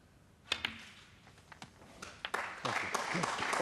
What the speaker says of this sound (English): Always nice to see the audience clapping a 50 break.